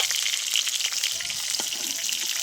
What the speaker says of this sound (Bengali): এই তেলেই বেগুনগুলো ভেজে নেবো